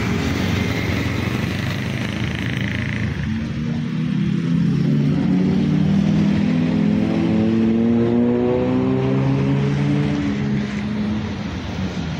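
Engine of a Cahaya Kembar Jaya night bus pulling away on departure, a loud close rumbling drone that rises in pitch as it revs and accelerates, with a steady stepped climb through the latter half.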